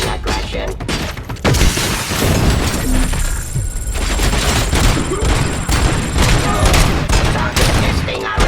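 Video game gunfire in a Detroit police setting rattles out in loud, dense volleys of shots and booms, with crashing impacts throughout and a game voice breaking in at times.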